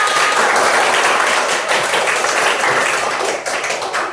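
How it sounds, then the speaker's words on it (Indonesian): An audience in a classroom-style gathering breaks into steady, dense applause, many hands clapping together loudly and continuously, tapering slightly near the end. "kita berikan aplaus dulu"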